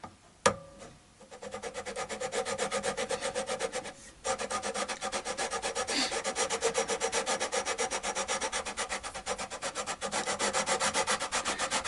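Steady rasping of a file drawn across guitar frets during a Yamaha Pacifica 112V setup, continuous close strokes with a brief pause near four seconds, no voices.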